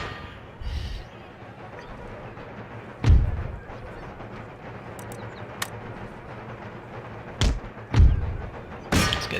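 Mortar artillery fire in Empire: Total War rings out as several heavy booming thuds, spaced unevenly over a low battlefield rumble, with a couple of sharper cracks mixed in.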